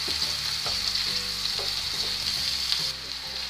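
Finely chopped ginger fries with onion in a pan over a medium flame, a steady close sizzle punctuated by soft stirring knocks, with no talk.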